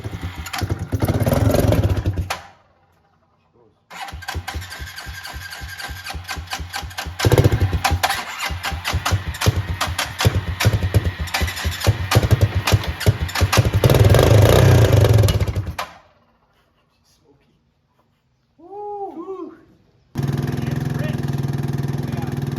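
A thirty-year-old barn-kept quad with a bad carburetor cranks, catches and runs roughly in loud sputtering bursts, cutting out into silence several times before restarting, with people talking between attempts.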